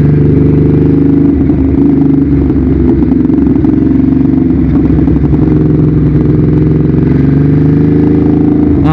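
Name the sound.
Ducati Hyperstrada 821 motorcycle riding through corner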